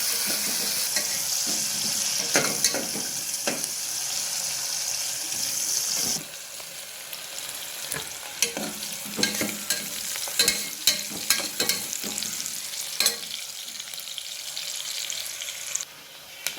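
Onions frying in a pan at home, a steady sizzle with scattered stirring clicks and scrapes, loud and close throughout with a brief dip partway, no voices.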